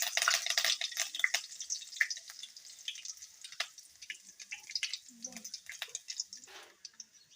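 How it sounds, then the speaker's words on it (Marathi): Curry leaves dropped into hot oil in a kadhai crackle and spit in sharp, bright bursts, loudest at first and then thinning into scattered pops and a faint sizzle. "तेल तापलेलं आहे, त्यात कढीपत्ता टाकून घेऊ।"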